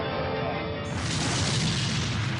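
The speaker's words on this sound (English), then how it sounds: "His number 2 engine was exploding into pieces." Airliner's number 2 engine exploding into pieces: a deep, heavy boom erupts and swells into a sustained roaring rumble, loud and close.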